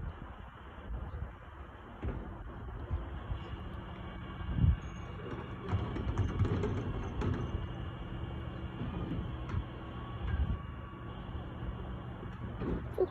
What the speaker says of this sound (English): The sound is from the lorry.